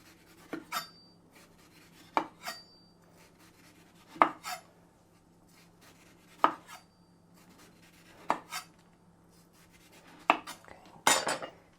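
A very sharp knife chops down through the skin and white pith of an orange onto a cutting board, about eight separate cuts at uneven gaps, each a short crisp thud with a faint scrape.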